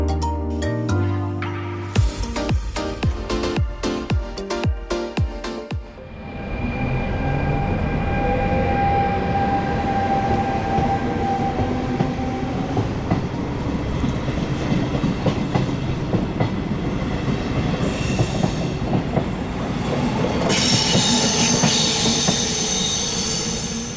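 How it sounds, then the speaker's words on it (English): A Trenitalia train pulls out of a small Italian station, wheels clattering over rail joints and squealing as the rumble builds and holds steadily close by, with only a brief word spoken at the start. "here we just saw my train leaving the station, continuing on to Alessandria"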